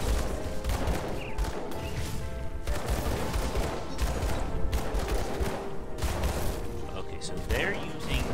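Rapid bursts of gunfire and clanging deflections in Grim Dawn, a dense battle of repeated sharp shots and impacts layered over game effects, fairly loud throughout.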